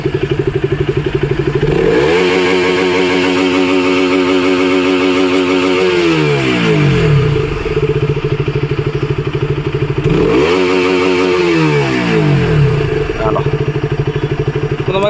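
A KTM RC 200 motorcycle engine cranks and fires, then revs up and drops back twice in long throttle sweeps, loud and close, settling to a steady idle between revs.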